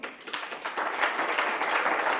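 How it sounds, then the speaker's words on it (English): A conference hall crowd claps in a dense, steady round of applause that swells slightly, with no one speaking. "Don't be afraid to give her a round of applause."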